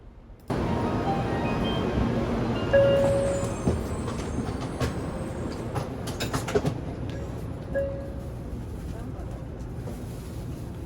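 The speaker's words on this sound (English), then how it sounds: "When the bullet train came to a complete stop, I prepared to board the train." A bullet train rumbles in and slows to a halt with brief squeals and clanks, amid steady mechanical noise and faint voices.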